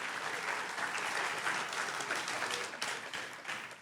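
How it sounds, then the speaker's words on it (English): Audience applause for the sponsors at a sports awards ceremony, a broad, continuous wash of clapping from a large room that thins slightly toward the end. "One more round of applause."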